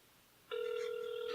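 A telephone ringback tone plays over a speakerphone, a steady electronic buzz that starts abruptly after a moment of quiet and holds close and clear.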